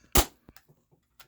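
A Game Face GFM311 airsoft pistol fires one sharp, close shot, followed by a few faint mechanical clicks.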